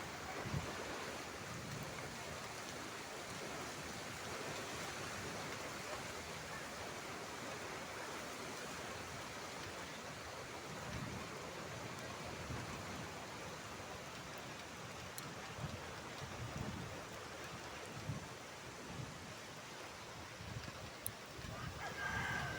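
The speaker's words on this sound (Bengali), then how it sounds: "হ্যাঁ, তো দেখো কীরকম ঝড় বৃষ্টি হচ্ছে, তোমাদেরকে একটু দেখায়।" A rainstorm with wind pours down outdoors, a continuous dense roar of rain and gusts that stays fairly even for the whole stretch, with no one speaking.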